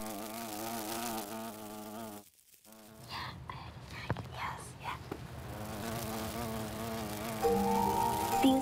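Steady buzzing of bees around flowers drones close by, with a humming, harmonic-rich tone and a brief pause partway through before the buzz resumes.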